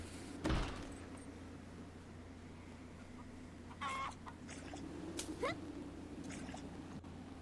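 A chicken clucks in the video game Phoenotopia: Awakening, a few short quiet clucks scattered over a low steady ambient hum, with one sharper knock near the start.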